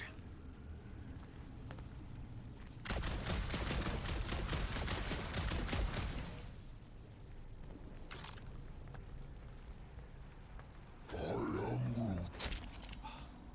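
Guns are test-fired in a science-fiction scene aboard a ship, producing a loud, dense burst of rapid gunfire lasting several seconds, followed by a few isolated shots and another short, harsh burst over a low background hum.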